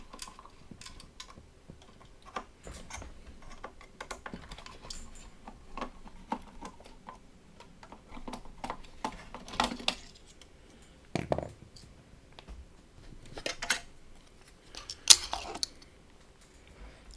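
Small screws being removed and a plastic battery cover taken off a Bat-Circuit battery box, faint scattered clicks, ticks and light scraping at close range, with no talk.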